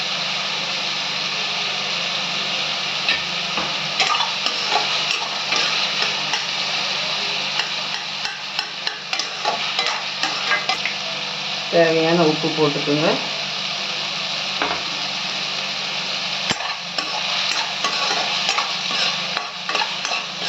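Tomatoes sautéing in a pan for tomato rice give a steady close sizzle with occasional stirring scrapes, under a voice talking in places.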